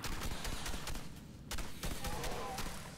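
Gunfire from the video game Red Faction: Armageddon as monsters are shot: a dense, rapid stream of weapon bursts, fairly quiet and continuous with a short dip partway through.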